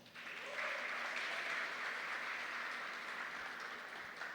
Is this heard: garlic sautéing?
no